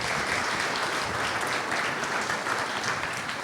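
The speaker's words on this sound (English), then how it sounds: "she deserves another round of applause because she's done an incredible job" A panel audience in Tulsa applauds with dense, sustained clapping from many hands that holds at an even level the whole time.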